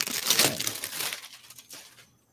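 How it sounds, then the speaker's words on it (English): Plastic packaging crinkles as it is unwrapped, a dense, close rustling burst that gradually thins out to a few last crackles before falling silent. "I apologize for all the crinkling"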